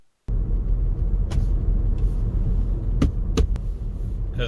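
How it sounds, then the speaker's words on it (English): Interior of a car on the move, a steady low road rumble with a few short sharp rattles and clicks near the listener, the source hard to place. "Something's rattling and I don't know what it is."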